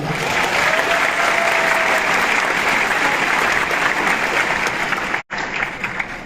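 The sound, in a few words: applause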